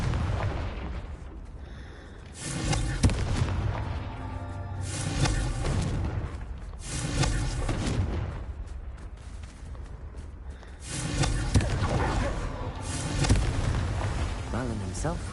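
Confringo spell explosions in Hogwarts Legacy, repeated loud booming blasts roughly every two seconds over a dense, continuous layer of game sound effects.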